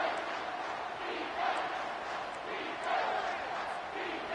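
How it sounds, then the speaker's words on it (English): Stadium crowd in a college football video game, a broad steady roar swelling in waves, with a commentator's voice over it. "Third down and the crowd really getting into it."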